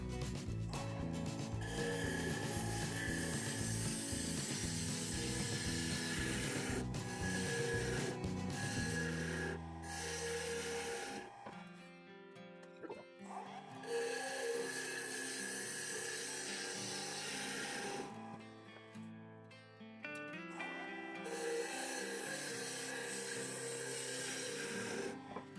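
A wood lathe turns down a maple vessel, the gouge cutting with a loud continuous scraping rasp over a humming motor, the cut pausing briefly and resuming in long passes.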